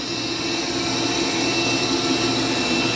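A Mova P10 Ultra robot vacuum runs over carpet, giving a steady, continuous motor whir and airy suction hiss at close range, unbroken through the whole stretch with no talk.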